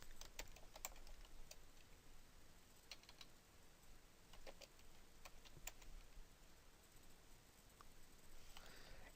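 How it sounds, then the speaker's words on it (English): Typing on a computer keyboard while entering a search term in Google Trends, heard as quiet, scattered key clicks in irregular bursts over a low background hiss, with no speech. "we are going to then just kind of type in our subject matter here"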